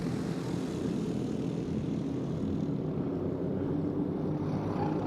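Briggs LO 206 racing karts in a four-kart main event at a California state championship, their small engines droning steadily and continuously at a moderate distance, a dense buzzing wash without a break, no talk over it.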